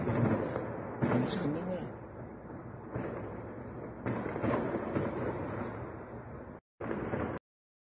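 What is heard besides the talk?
grenade explosions in news footage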